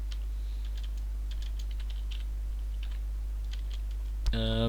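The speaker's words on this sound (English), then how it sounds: "type that out real quick" Quick bursts of typing on a computer keyboard while entering turtle coordinates in Computercraft, faint scattered clicks over a steady low hum, ending in a brief louder electronic tone.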